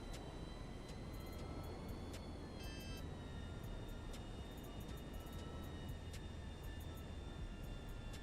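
In GTA Online, a massive airplane's engine hums on as a constant heavy drone with thin high whining tones and small clicky blips early on, without any speech.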